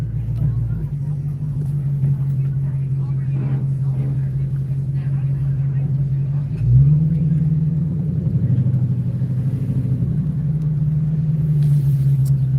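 A car engine hums steadily from inside the cabin as the car creeps through stop-and-go traffic, a constant low drone that shifts pitch once midway, with someone talking over it.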